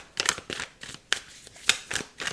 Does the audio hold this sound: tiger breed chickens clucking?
no